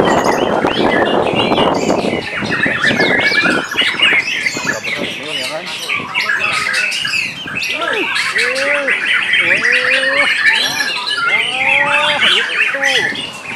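A white-rumped shama (murai) calls loudly and close by with repeated squawks, chirps and whistled phrases, and people talk in the background.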